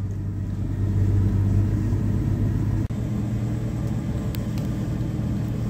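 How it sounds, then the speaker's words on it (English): A 1976 Dodge D100 pickup with a small six-cylinder engine and 727 automatic transmission drives under steady load, its engine droning and rumbling loudly with a brief dip as it shifts. "the little six-cylinder engine, it's working hard to move this truck around"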